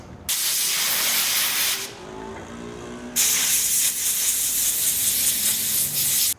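Oil sprayed from a can onto the chain of a Fantic Caballero 500 motorcycle, heard as two long, steady hissing bursts close by with a short pause between them.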